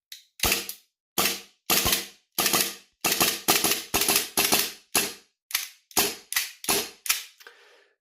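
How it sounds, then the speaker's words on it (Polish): An Umarex Beretta M92 FS replica pistol fires about fifteen sharp, cracking shots with full slide cycling, loud and close in an uneven rhythm, alone without talk. "ten pistolet strzela, wykonuje pełne cykle, a pracuje jakby zaraz miał przestać"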